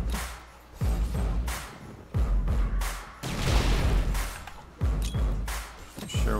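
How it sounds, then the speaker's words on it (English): Explosions in the survival game 7 Days to Die at a clock tower horde base, a run of repeated booming blasts and thuds spaced roughly a second apart, loud and near, with no one speaking. "Not sure what the extra explosion was from."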